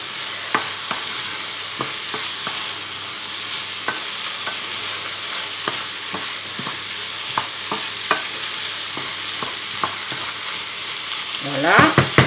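Squid and three bell peppers frying together in a pan for a Basque-style dish, a steady close sizzle with scattered clicks of stirring and a louder burst of scraping and sizzle at the end.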